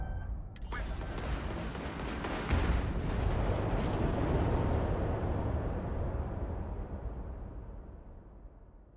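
Gunfire from enemies in the video game Starfield, a dense sustained barrage of overlapping shots and blasts that swells in the middle and tails off toward the end, heard alone without talk.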